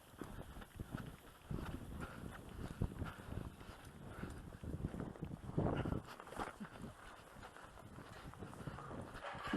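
Steady clip-clop of several horses' hooves walking on hard ground while herding cattle, continuous and mid-distance, with outdoor rumble beneath.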